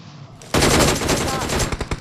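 Rapid automatic gunfire in an online shooter video game bursts in loud and close, a dense sustained volley that tapers into a few separate shots, with a brief quieter stretch of game ambience before it.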